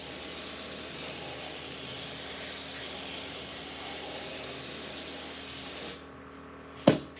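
Spray gun laying down a coat on a patterned lowrider panel for a fire station, a steady close hiss lasting about six seconds, then cutting off and followed by a single sharp click.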